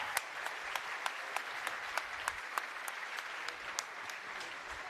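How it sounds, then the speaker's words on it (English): Faint, distant applause from the audience at a university graduation ceremony, continuous clapping with a few crisp individual claps rising above the wash. "Master in Finance, your applause"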